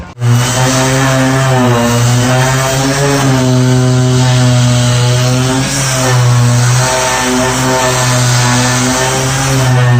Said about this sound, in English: Let me grab my sander and we will get to work